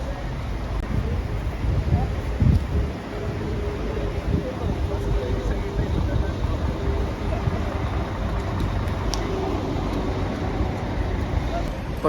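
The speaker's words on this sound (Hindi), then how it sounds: "बारिश हो रही है, तेज़ बारिश हो रही है" Heavy rain falls at a petrol pump in Madina, where a car is parked. It makes a steady, dense hiss and roar for about twelve seconds with no distinct thunder.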